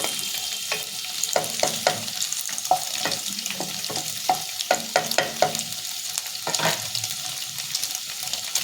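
Paneer and fenugreek frying in a small amount of oil, a close, steady sizzle broken by frequent clacking stirs and scrapes of a spatula at an uneven, busy rhythm.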